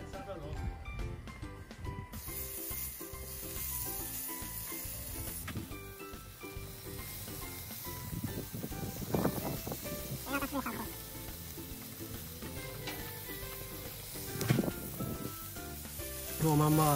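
Food sizzles steadily on a gas barbecue at an Eid al-Adha cookout in Britain, a continuous frying hiss with occasional crackles under a person talking close by.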